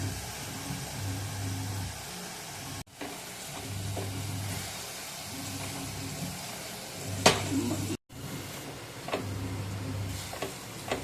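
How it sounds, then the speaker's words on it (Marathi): Tomato paste sautés in oil in a pan for chicken biryani, a steady close sizzle with occasional stirring scrapes and light ticks, no talking. "टोमॅटोची पेस्ट पण चांगली परतून घेऊ।"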